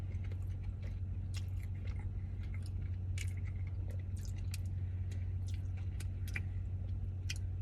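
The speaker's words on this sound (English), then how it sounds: "But I just feel fancy eating this chocolate" Close-up chewing and biting on fancy chocolate produces soft, wet mouth sounds in scattered bursts, set over a steady low hum, with no talking.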